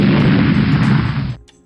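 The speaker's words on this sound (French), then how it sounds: "ce que je peux faire, c'est mettre une explosion" An explosion sound effect added to a PowerPoint slide transition: one loud, sustained rumbling boom that cuts off abruptly after about a second, with no talk.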